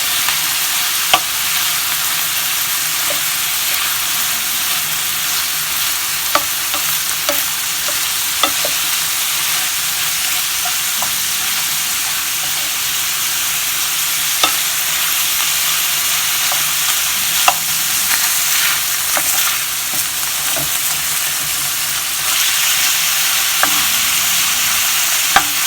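Bacon frying and being stirred in a pan with a loud, constant sizzle, dotted with scattered light clicks and scrapes of a spoon or spatula, close and without any talking.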